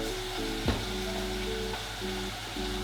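Minced beef with a tablespoon of ketchup sizzling steadily in a hot pan, with a brief scrape of the spoon as it is stirred around, under a faint background hum.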